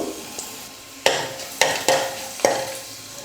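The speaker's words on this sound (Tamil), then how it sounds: "எண்ணெய் நல்லா காஞ்சிடுச்சு. கடுகு சேர்த்துக்கிறேன்." Mustard seeds sizzle and crackle steadily in hot oil in a pan while making rasam, broken by four sharp clinks of a spoon stirring.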